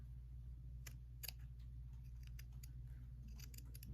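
Close, quiet snipping of scissors trimming a fabric seam near a sewn point: a series of short, crisp cuts in an irregular rhythm over a low steady hum, with no talking.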